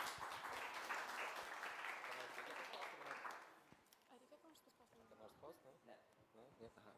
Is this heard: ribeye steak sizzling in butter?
no